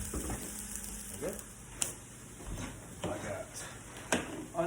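Caramelized onion and plain cauliflower frying in a pan make a steady, soft sizzle, broken by occasional scraping stirs, while someone talks over it.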